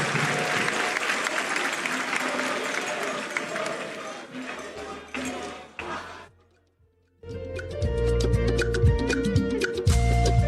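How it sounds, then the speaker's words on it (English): A studio audience at a school quiz competition claps loudly as a dense wash of applause that thins and fades out, followed by a short gap before music and a voice come in. "Please clap for them."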